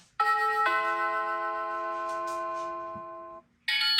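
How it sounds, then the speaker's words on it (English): A Ring Chime doorbell plays its two-note ding-dong tone once, the second tone ringing out and slowly fading before a brief new chime starts at the end. "Ding dong."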